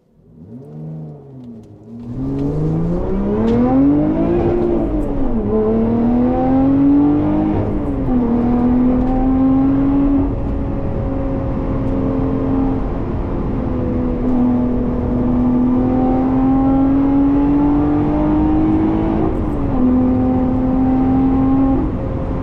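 A Lotus Emira sports car accelerates on an open road, its engine note climbing loudly and continuously through the revs with brief dips at each gear change, heard from inside the car.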